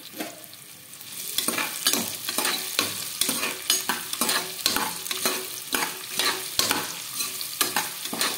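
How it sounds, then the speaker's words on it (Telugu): Onions, green chillies, spring onions and cumin fry in hot oil inside a pressure cooker, a steady close sizzle broken by regular scraping stirs of a spoon against the pot. "కుక్కర్లో ఆయిల్ వేసి బాగా కాగాక ఆనియన్స్, పచ్చిమిర్చి, ఉల్లికాడలు, జీలకర్ర అన్నీ వేసి బాగా ఫ్రై చేసుకోవాలి"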